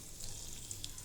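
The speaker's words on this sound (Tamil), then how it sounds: "கடுகு நல்லா பொரியணும்." Mustard seeds crackle and sizzle in hot oil for a sambar tempering, a faint, steady frying hiss with a few tiny sharp pops.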